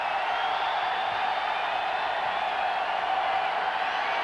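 Football stadium crowd at a 1991 Tulane vs. Alabama college game cheering for a shutout, a steady, dense roar of many voices filling the whole stretch at even loudness.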